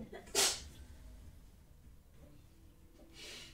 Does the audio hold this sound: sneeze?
yes